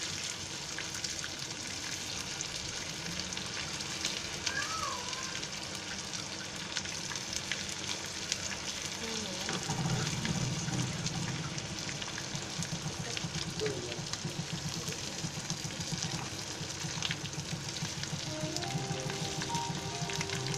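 Whole stuffed bitter gourds (karela) roasting in a covered pan give a steady, close sizzle and crackle, with a brief stir or shuffle partway through and faint pan clatter, no talking.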